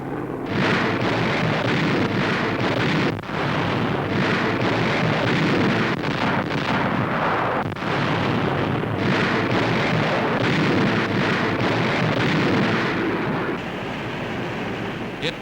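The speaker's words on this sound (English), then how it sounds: "Land-based bombers drop 70 tons of aerial high explosives on Japanese positions." Wartime land-based bombers dropping high explosives on Japanese positions during the Battle of Rendova, a continuous loud roar of blasts and rumbling with dense, sustained noise and occasional sharper thumps, no voices.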